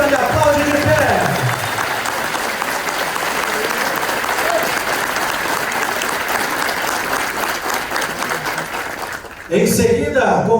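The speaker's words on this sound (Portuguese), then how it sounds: "Curitiba, e aplaude de pé." Loud, sustained applause from a large crowd, steady throughout, with a brief dip near the end before clapping resumes.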